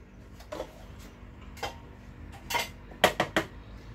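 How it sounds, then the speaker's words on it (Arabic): A mango sorbet scooped into a serving glass: a series of light clinks and scrapes of a spoon against glass, a few isolated taps then a quick cluster of three near the end, close and fairly quiet with no talking. "دابا غادي نخوي فيه هاد السوربي ديال المونغ"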